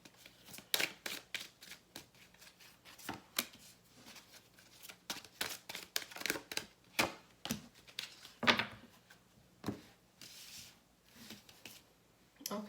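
Angel cards shuffled and drawn close by, a long irregular run of soft flicks, slaps and taps with short pauses between them.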